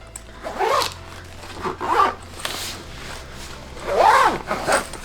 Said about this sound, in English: And then when you zip it up